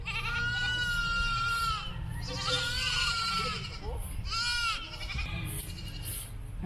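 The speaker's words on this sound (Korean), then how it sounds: "저분이 가지고 온 염소를 지금 보러 가겠습니다" A goat brought by a seller to a wide open lot in the middle of a residential neighbourhood bleats loudly and close by, several drawn-out wavering cries in a row with brief pauses between them.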